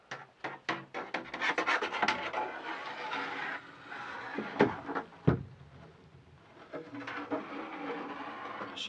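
A six-foot one-piece fishing rod slides into the hatch of a Stealth 525 kayak, giving soft scraping and rubbing with a few sharper knocks, close and moderately quiet, with no talking.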